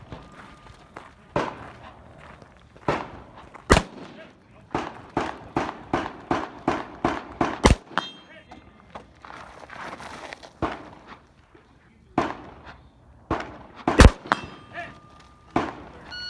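Rifle shots at a two-gun action match, a long run of sharp cracks fired in quick irregular succession, some near and loud, others lighter, with movement noise between.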